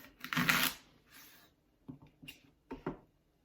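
A kitchen knife cuts a fennel bulb into quarters on a cutting board, making a drawn crunching slice followed by a few short, quiet taps and chops.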